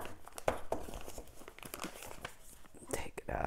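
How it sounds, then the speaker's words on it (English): A plastic bag holding thin-set mortar being folded up, giving close crinkling and crumpling rustles in irregular bursts, heard under a person talking. "now, fold our bag up"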